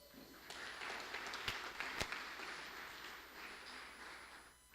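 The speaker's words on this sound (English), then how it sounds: "let's give him a better clap than that." An audience at a mentorship program event applauds, a steady, fairly faint wash of clapping with a couple of sharper claps standing out, no talk over it.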